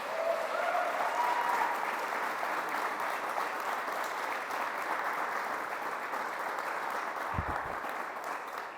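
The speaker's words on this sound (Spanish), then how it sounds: "Vuélvanse a aplaudir ustedes ahora." A church congregation applauds in a steady, full wash of clapping that holds for several seconds at moderate level, with a brief low thump near the end and no talking over it.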